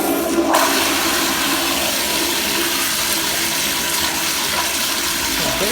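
A toilet flushing, a loud, steady rush of swirling water close by that runs continuously with no talking.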